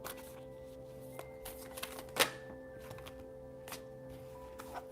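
A deck of tarot cards being shuffled indoors, with soft, sparse riffling clicks and one sharper snap, quiet against a faint steady hum.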